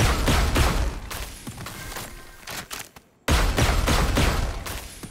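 Mystbloom skin Judge shotgun in Valorant firing in a rapid string of loud, close blasts, a brief silent gap near the middle, then another burst of shots.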